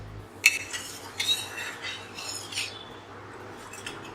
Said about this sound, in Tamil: உப்பு சேர்த்துட்டோம், நல்லா மிக்ஸ் பண்ணி விட்டுக்கோங்க